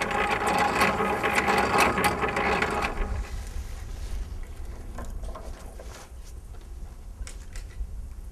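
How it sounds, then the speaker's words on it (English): A sidewall curtain winch on a high tunnel greenhouse winds cable tight, giving a close, steady mechanical whirring and ratcheting for about three seconds before it drops to quieter clicks and handling noise. "we are going to wind all the cable on here until it's tight"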